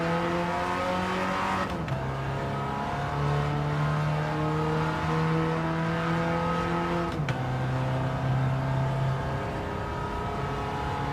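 Alfa Romeo engine revving in the racing game Gran Turismo 7 during an online lobby race, a steady loud drone that drops pitch sharply at two gear shifts and climbs again, with no talk.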